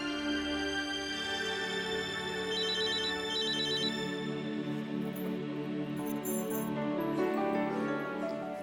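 A telephone rings with a melodic electronic ringtone in a Hindi TV drama scene, its repeating tones steady and clear over a sustained musical background with no talking.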